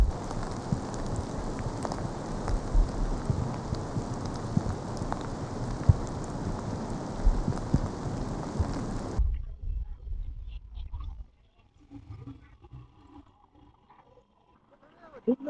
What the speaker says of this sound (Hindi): बारिश हो रही है बहुत भयंकर.